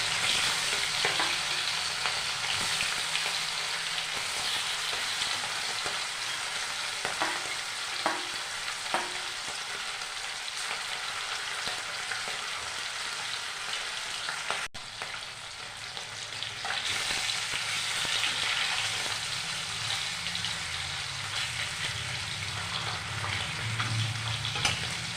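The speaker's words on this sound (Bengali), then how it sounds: "আমি একদম কড়াইতে দিয়ে মাছগুলোকে শ্যালো ফ্রাই করে নেব" Hilsa fish shallow-fry in mustard oil in a wok with a loud, steady, close sizzle that runs without a break for about twenty-five seconds, with faint stirring clicks and no voices.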